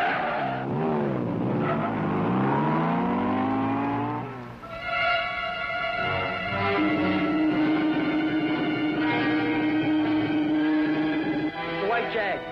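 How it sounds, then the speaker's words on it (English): A white Jaguar drives at an automobile proving ground with a test driver at the wheel, its engine and tires sweeping past in loud, sustained passes that shift pitch as it approaches and moves away, and no one speaks. "The white Jag. Here he comes."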